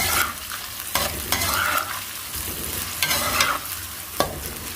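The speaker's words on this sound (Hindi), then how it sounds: "गरम घी का ये फ़ायदा होता है कि प्याज जल्दी ही ब्राउन हो जाता है।" Onion frying in hot ghee for chicken biryani, a loud close sizzle with periodic scraping stirs every second or so.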